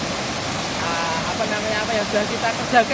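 Waterfall at Gunung Jati in Jenawi, a steady broad rush of falling water filling the whole clip while someone speaks over it.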